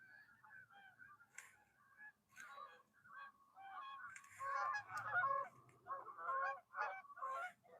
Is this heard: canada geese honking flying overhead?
yes